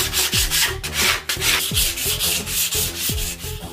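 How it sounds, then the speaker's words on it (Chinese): Sandpaper rubs back and forth over body filler on a WWII Mauser 98k bayonet's steel scabbard, a steady, close scratchy sanding that rises and falls in short repeated strokes, with faint tonal music underneath. "之后再用砂纸将它打磨光滑"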